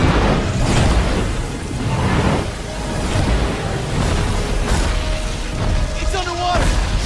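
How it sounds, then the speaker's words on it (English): Bombs exploding in a fantasy RPG video game, a dense, loud barrage of overlapping booms and rumbling blasts that rolls on without letup, with a few brighter whooshing accents near the end. "let's drop some bombs in this thing!"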